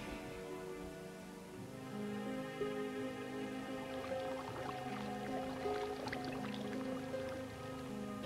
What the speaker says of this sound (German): Ich finde es schön, dass hier jetzt überall so ein bisschen Wasser blubbern zu hören ist.